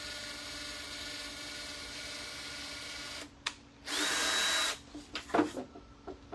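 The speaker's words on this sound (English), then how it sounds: "lay your drill bit down and then just tip it up" A power drill whirs in a short steady burst, followed by a few brief clicks and knocks over a constant background hum.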